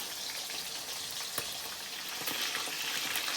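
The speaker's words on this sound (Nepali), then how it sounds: "अनि यहाँ चाहिँ माछा फ्राई हुँदैछ" Fish frying in hot oil on a gas stove for a home-style fish curry, giving a steady dense sizzle with scattered sharp pops and crackles, close and fairly loud, with no talking.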